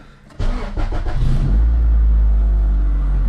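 A Honda Integra engine, reportedly after jumping timing, cranks briefly with a rapid starter chatter, then catches and settles into a loud, steady idle right up close.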